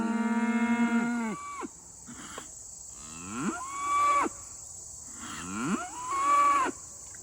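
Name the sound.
cows mooing in pasture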